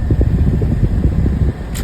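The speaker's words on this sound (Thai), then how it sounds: "แอร์ลมแรงนะครับ" Strong steady blowing from a used car's air conditioning vents, a loud close rush of fan air with a low rumble, ending in a brief click.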